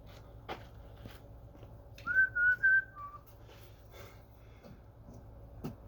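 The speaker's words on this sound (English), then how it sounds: "You know you're a father when you start whistling your daughter's toys music" Someone whistles a brief few-note tune, clear and close, among faint scattered clicks and knocks.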